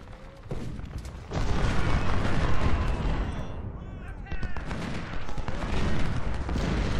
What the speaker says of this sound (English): I want to have as many brigades as possible firing on him.